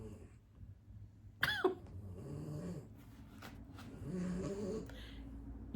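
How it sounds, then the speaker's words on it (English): Soft, uneven snoring breaths close by, interrupted by a sudden sharp snort or cough partway through, then more low rasping breathing. "You may hear snoring."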